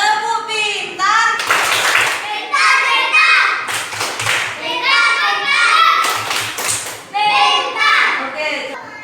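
A class of schoolchildren performs a rhythmic 'tepuk pintar' clapping chant, with bursts of unison claps between their sung, chanted voices, loud and close in a classroom.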